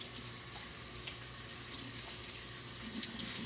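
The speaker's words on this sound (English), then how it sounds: "Come join me as I rinse out some tie-dye shirts." Tie-dyed shirts rinsed under a running faucet, a steady, close splash and gush of water flowing continuously into a sink with no talking.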